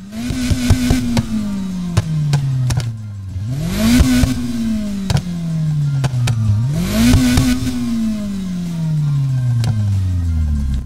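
Car exhaust in the Need for Speed Heat racing game, revving loudly in repeated rising and falling sweeps with three main surges, a steady close engine drone throughout.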